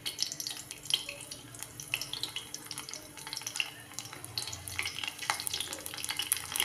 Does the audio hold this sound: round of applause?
no